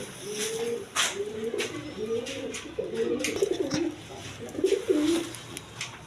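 Pigeons on a pigeon farm coo repeatedly in soft, close, overlapping throaty phrases, with occasional clicks and handling noises between the calls.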